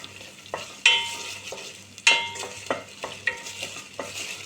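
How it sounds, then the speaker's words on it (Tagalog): Tomato paste sizzling and being stirred in a pan, with a soft steady fry under sharp scraping spoon strokes at irregular intervals. "Lulutuin po natin guys yung tomato paste ng mga ilang minuto para masarap siya, mas malasa kapag niluto mo ginisa ng ganito"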